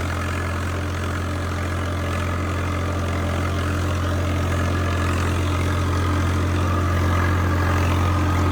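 Continuous loud drone of a tractor engine working a wet field during large-scale ploughing, steady and near with a deep low hum and rattling vibration throughout.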